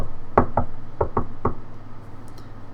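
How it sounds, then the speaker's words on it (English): Five sharp knocks on a door in an uneven rhythm, close and fairly loud over a low steady background hum, with no voices. "as she knocks on the door"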